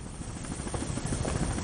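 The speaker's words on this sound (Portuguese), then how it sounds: "Não para de passar helicóptero." A helicopter flying overhead above a city, a loud, continuous rotor thump and engine roar that fills the whole moment with no voices.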